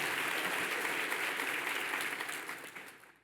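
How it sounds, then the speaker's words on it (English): An audience at a city State of the City address in Norfolk applauds a retiring honoree, producing dense, loud clapping that holds steady and then gradually tapers off at the end. "Let's give William Harrell a round of applause."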